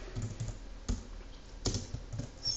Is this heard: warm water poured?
no